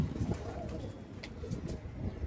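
Soft coos from a pair of crested pigeons repeat a few times close by, low and murmuring, over a faint background hum.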